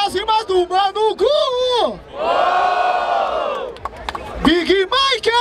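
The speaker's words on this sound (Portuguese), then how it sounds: "Barulho para as rimas do Mano Gu!" A rap battle crowd in Barueri, SP, roars and cheers for an MC in the second round, a loud sustained wave of shouting swelling between chanted calls, with an MC's amplified voice hyping them before and after.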